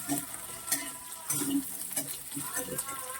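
Chopped onion and cut potatoes frying in oil in a pan, a continuous close sizzle broken by the clatter of a spoon stirring every second or so.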